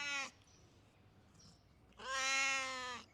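A cat meows twice, a short cry followed by a longer drawn-out meow after a quiet pause, close and clear.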